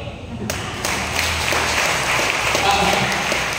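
Audience applause at a church service in Muntinlupa City, a steady dense wash of clapping that swells after the first half second and keeps going, with voices mixed in underneath.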